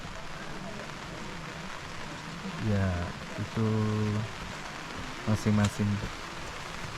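Steady rain patters down on hikers on Mount Prau, a constant wash of hiss beneath several short bursts of people talking nearby.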